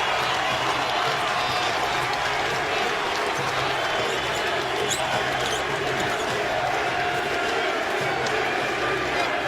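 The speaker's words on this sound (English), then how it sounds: "Crowd applauding the effort out of Derrick Rose here tonight." An NBA basketball arena crowd applauding steadily, a dense wash of clapping and murmur with sneaker squeaks and ball bounces underneath, heard from the stands at a distance.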